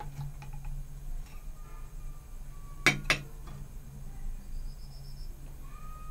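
A spoon clinks twice against a bowl while honey is added to egg yolk, two quick bright taps close together over a faint steady background hum.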